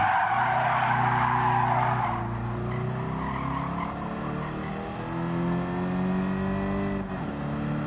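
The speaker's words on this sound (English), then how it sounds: "Try my drift turn here." A car skids through a drift turn at Tsukuba in Gran Turismo 7, tires squealing loudly over a steady, revving engine drone that shifts pitch as the slide carries on.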